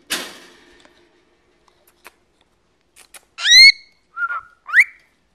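A pet bird lets out a few sharp, bright chirps and rising whistles near the end, close and clear against an otherwise quiet room, after a brief rustle at the start.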